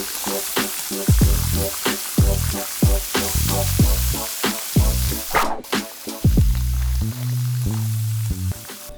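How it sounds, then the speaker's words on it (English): Vegetables sautéing gently in butter in a pan over medium heat, a steady sizzle broken by repeated stirring scrapes and clanks, loud and close throughout. "We're going to saute these vegetables gently with a couple tablespoons of butter in a pan."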